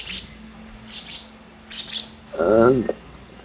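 Soft high chirps from a three-week-old baby lovebird come and go, then a louder, wavering squawk-like call near the end, with faint background hum.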